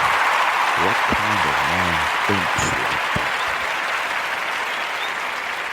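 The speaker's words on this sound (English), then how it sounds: "And you all are applauding it." Continuous crowd applause fills the background while someone speaks over it with a few short phrases, the clapping staying broad and steady and tapering slightly toward the end.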